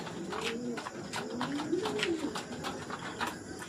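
Pigeons coo at night in a rooftop loft, low repeated throaty calls coming in overlapping phrases at moderate distance over a quiet background.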